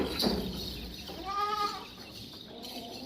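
A goat that has just given birth to a single healthy kid lets out one clear, wavering bleat at moderate distance over a quiet background, with a short knock just before it.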